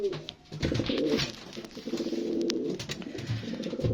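Pigeons coo close by, with rolling, throaty repeated calls that overlap almost continuously and carry no talk.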